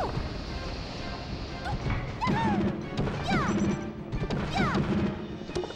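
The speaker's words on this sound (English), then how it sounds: "Wow, these down smashes." Peach's down smash attacks in a Super Smash Bros. Melee tournament match land as a rapid series of loud whacks and crashes over game sounds, with commentators talking underneath.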